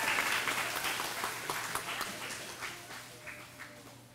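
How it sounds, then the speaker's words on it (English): An audience applauds at an elementary school ribbon cutting ceremony, a broad round of clapping that starts strong and gradually tapers off as individual claps thin out over a low steady hum. "Now let's give a big round of applause."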